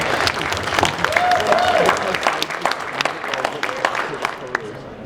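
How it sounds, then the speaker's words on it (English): Audience at a live MAGFest panel applauding, a steady patter of clapping from a crowd with a voice speaking over it. "Let's give her a round of applause."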